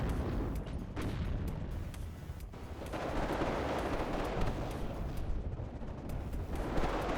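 Tanks fire in the Cold War strategy game WARNO, heard as dense, continuous distant rumbling and booming gunfire with overlapping shots and no clear pauses.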